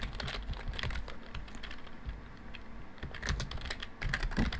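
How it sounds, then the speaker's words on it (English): Rapid clattering keystrokes on a computer keyboard while building a WordPress website, uneven bursts of close, crisp taps with short pauses, no voice. "I'm going to type here to help"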